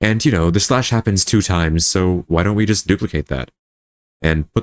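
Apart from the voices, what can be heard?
No everyday noises stand out.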